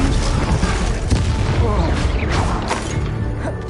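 Confringo blasting spell bursting in Hogwarts Legacy, a loud booming explosion with crashing impacts and rumble that fill the short stretch, dense and close.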